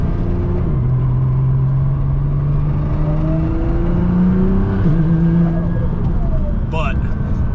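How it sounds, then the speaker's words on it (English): Straight-cut Albins gear set whining as the car climbs through the gears, a steady rising tone over loud engine drone, shifting pitch as each gear changes. "as I shift through the gears is it does have some transmission whine. That is the straight cut Albin's gear set"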